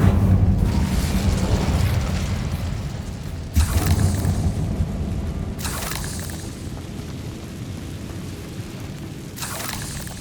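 Incendio fire spells cast in the Hogwarts Legacy video game, heard as three sudden whooshing blasts spaced several seconds apart over a steady low rumbling backdrop, with no voices.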